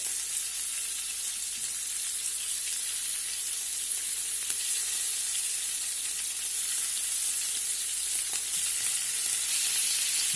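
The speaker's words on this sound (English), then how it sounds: "that's exactly what you want to hear when they hit the frying pan" Scallops sizzle and crackle steadily in a hot frying pan over medium-high heat, a continuous hissing spatter with no talking.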